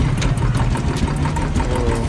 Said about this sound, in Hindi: मतलब इंजन स्टार्ट हो गया